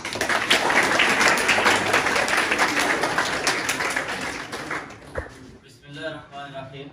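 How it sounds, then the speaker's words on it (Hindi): Audience at a government high school function breaking into sustained, dense applause that carries on for several seconds and then fades, after which a voice begins speaking. "जहांज़ेब अकरम मिनहाज, तालियां।"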